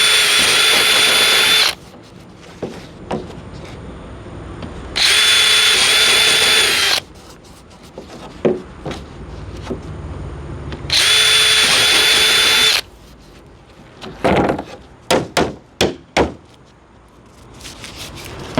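A power drill bores countersink holes and drives screws into a steel plate on a Hyundai Casper car door, with three loud, sustained whirring bursts followed by sharp metallic clicks and taps.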